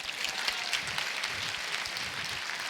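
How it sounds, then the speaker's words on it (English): An audience at a talk on interacting with police gives a round of applause, a steady wash of many hands clapping with a few voices mixed in, continuing evenly throughout. "y'all give him a round of applause"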